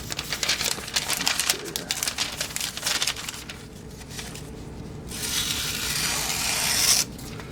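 A factory-edge Lionsteel Roundhead knife with an M390 blade slices through paper close by, making a gritty, scratchy rasp in several rapid strokes followed by a longer, smoother cut, with no talking.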